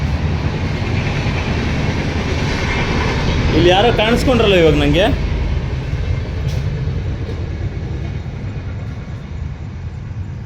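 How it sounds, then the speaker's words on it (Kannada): A passing train makes a loud, steady rumble throughout, with a brief high squeal of wheels midway, while someone speaks over it. "ಈ ಟ್ರೈನ್ ಸೌಂಡ್ಗೆ ಏನೂ ಕೇಳಿಸ್ತಾ ಇಲ್ಲ."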